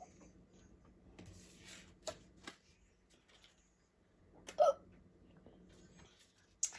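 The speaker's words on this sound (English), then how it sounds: "I got the hiccups." Several sharp hiccups from a person scattered across a quiet room, the loudest one about two thirds of the way through, with faint soft rustling between them.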